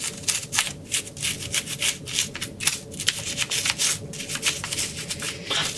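Brush scrubbing a dirty Mikuni carburetor part, close and fairly loud, with quick repeated back-and-forth rasping strokes in an uneven rhythm.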